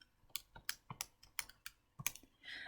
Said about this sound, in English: when I go ahead and type that into my calculator